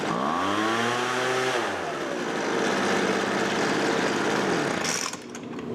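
A small engine running after a high- and low-speed carburetor adjustment: a loud buzzing drone that revs up and settles into a steady, rough idle, with a brief clatter near the end, close by and with no talk.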